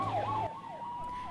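An ambulance siren wails with rising and falling sweeps, steady and moderately faint as if from a distance, with no talking over it.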